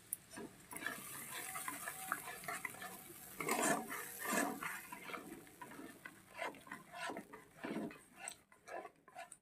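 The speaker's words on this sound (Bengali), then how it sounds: "খুব ধিমে আঁচে আস্তে আস্তে আমি এটাকে আর একটু কষিয়ে নেব" Katla fish curry with whisked yogurt being stirred in a pot over low heat: soft, faint scraping and gentle clinks of a spoon against the pan in an irregular rhythm, fairly quiet and close, with no talking.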